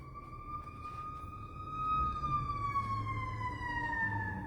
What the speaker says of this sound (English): Oh, I hear an ambulance.